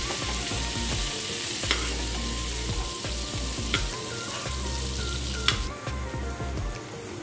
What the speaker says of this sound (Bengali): পেঁয়াজটা আমার ভাজা প্রায় হয়ে এসছে।